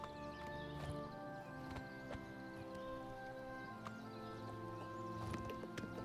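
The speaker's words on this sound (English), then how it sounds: "Let's back this horse up" Horse hooves clip-clop along a road in the game Oblivion Remastered as an armored horse is ridden, steady repeated thuds under a faint continuous game soundscape, with no talk.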